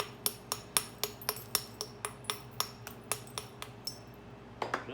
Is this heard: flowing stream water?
no